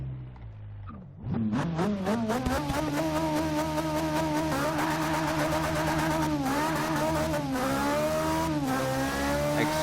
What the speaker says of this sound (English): Let's get to the end of this little runway here and do a little bit of a launch